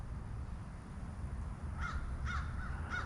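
Crows caw three times at steady intervals, each a harsh call over a constant low background rumble, fairly distant and fainter than the noise floor.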